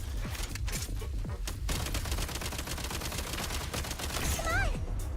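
Sustained automatic gunfire in Genshin Impact fills the clip with dense, rapid bursts, loud and continuous, with a whistling effect rising near the end.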